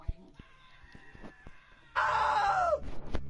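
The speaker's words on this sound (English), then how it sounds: "Now that was a great scream." Scream in the video game What Remains of Edith Finch: after a few soft knocks and clicks, a loud, shrill scream breaks out, holds for about a second with a falling pitch, then cuts off sharply.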